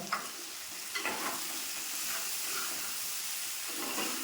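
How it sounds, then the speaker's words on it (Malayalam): Garlic and green chilies fry in a pan of hot oil as the base for an okra curry in coconut milk, a soft, steady sizzle and hiss with occasional stirring scrapes, fairly faint and without speech. "ഈ സമയത്ത് നമുക്ക് നമ്മുടെ വെളുത്തുള്ളിയും ഇത് നടുക്കൊട്ട് കൊടുക്കാം. പച്ചമുളകും കൂടെ ഇട്ട് കൊടുക്കാം."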